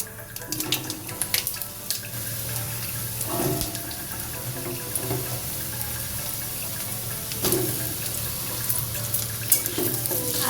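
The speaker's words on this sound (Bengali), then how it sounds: "আলুটা ভেজে নিচ্ছি" Diced potatoes fry in hot mustard oil with bay leaf and whole cumin, giving a steady, fairly quiet sizzle broken by a few sharp clicks of stirring, with no voices.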